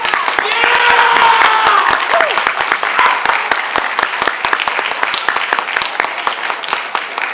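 Audience applause for high school students at a Rotary Club four-way speech contest fills the room, dense and loud at first and then thinning a little, with a few voices and cheers mixed into the sustained clapping.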